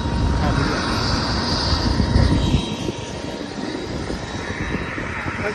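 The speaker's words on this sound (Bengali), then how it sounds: "হেলিকপ্টার উড়ান দিব" A helicopter lifts off from a temporary helipad at an AIUDF election rally in Balapara, Bongaigaon, its loud, steady engine and rotor roar running continuously and slightly easing partway through, with a crowd's voices mixed underneath.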